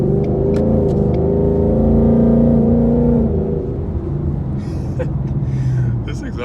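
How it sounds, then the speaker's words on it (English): A 2020 Ford Mustang GT rumbles loudly and revs, the low exhaust note rising and then easing off as it pulls away, with faint clicks nearby. "This exhaust is pretty loud."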